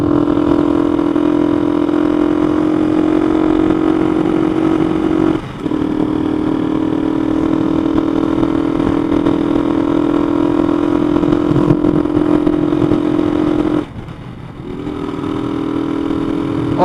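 A Honda CG motorcycle fitted with a new Koso carburetor runs continuously at a steady, loud engine drone, with a couple of brief dips where the throttle falters before it picks back up.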